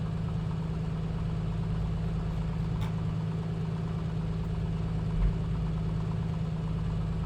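The simulated engine of an A2A Piper Comanche in MSFS 2024 idles while the aircraft taxis, a steady low droning hum that stays even and moderately quiet throughout with no talking.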